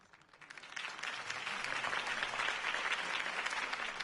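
A video game crowd bursts into applause, swelling quickly from quiet to a dense, sustained wash of clapping that continues evenly.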